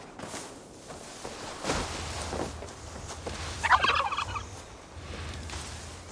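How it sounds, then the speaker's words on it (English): A turkey gobbles once, loud and close, in the video game Assassin's Creed Valhalla, with soft footsteps and a whoosh earlier in the scene. "Killer turkeys."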